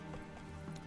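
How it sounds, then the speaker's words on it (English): Horse hooves clip-clop in a quick, even rhythm under a video game's ambient sound, faint and brief, with no voices. "Whoa there, Roach."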